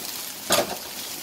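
Chopped carrot, capsicum and cabbage stir-fried for chicken chow mein, giving one short scraping, sizzling toss in the pan, a single brief burst amid quiet kitchen background.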